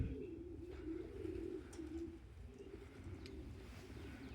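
Young racing pigeons coo softly and steadily in a loft at a 5 km training, a low continuous murmur of several birds with no voices over it.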